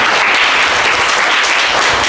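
Loud, steady applause from a group of children rewarding a correct answer in a general knowledge quiz, dense continuous clapping throughout without pauses.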